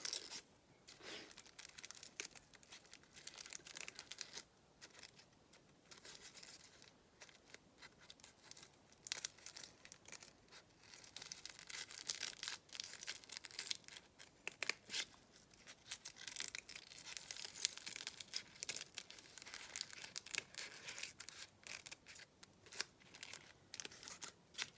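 Scissors snipping through paper while shapes are cut out, a long run of close, quiet, irregular crisp cuts mixed with paper rustling and crinkling.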